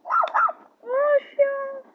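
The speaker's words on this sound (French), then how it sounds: "Un chien. Un petit chien." A small cartoon dog in Pikmin 4 gives a couple of short yappy barks, then two longer whining, tonal yips, close and fairly loud with no talk over them.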